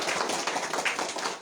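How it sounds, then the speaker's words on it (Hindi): Strong audience applause at a Shree Krishna Janmashtami katha gathering, a brief dense burst of steady clapping from many hands, fairly loud and close. "एक बार फिर से हम जोरदार तालियों से उनको धन्यवाद"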